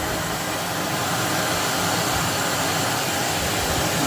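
A shop vacuum cleaner runs steadily throughout, a loud broadband whoosh of motor and suction used to clean up slot car track scenery, with no voices over it.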